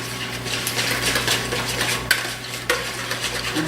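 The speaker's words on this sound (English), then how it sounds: "we are going to whisk it up and get all the ingredients" Ingredients whisked together in a bowl, a close, steady scraping and rattling of the whisk against the bowl with a couple of sharper clinks, alone without speech.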